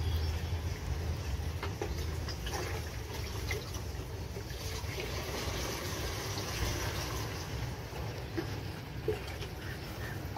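Water pours into the tank of a 16-litre spray pump, a continuous rushing, trickling flow that stays steady and moderately close throughout, with no speech.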